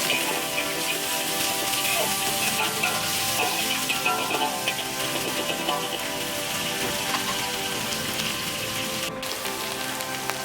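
Onions sauté in oil with green chillies and pandan leaves for chicken kurma, a steady dense sizzle and crackle that carries without break, with a faint stir now and then.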